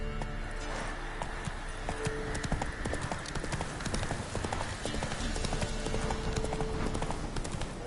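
Galloping horse in the video game The Witcher 3, steady rhythmic hoofbeats clip-clopping close up over ambient game sound, with an occasional brief voice.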